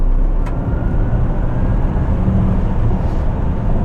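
A 2025 Chevrolet Blazer SS EV electric SUV accelerates hard at full power, a loud, steady roar of road and wind noise with a faint rising whine throughout, no voices.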